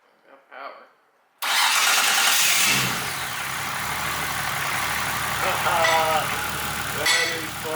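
An HKS RB28 stroker engine cranks and fires up after a brief quiet pause with a faint voice, then settles into a loud, steady near running note for the rest of the clip.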